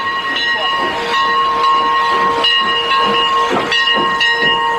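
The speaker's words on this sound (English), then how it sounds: "we'll ride on a real old-fashioned steam engine as it chugs its way through the woods" An old-fashioned steam train moves through woods, its loud steady steam hiss joined by sustained whistle tones and rhythmic chuffing pulses, close and dominant with no talk.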